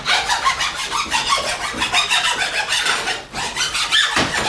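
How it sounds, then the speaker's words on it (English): A flat file scrapes across a Dodge Ram 1500 transmission valve body in a rapid series of close, rasping strokes, with a brief pause near the end. "Next part on this valve body, we're actually going to flat file"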